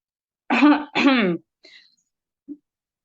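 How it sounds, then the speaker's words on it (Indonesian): A person gives a cough demonstration into a tissue while teaching about tuberculosis: two close, loud, harsh coughs, then a softer short breathy sound and a faint final throat noise. "Contohnya kita batuk dengan menggunakan tisu."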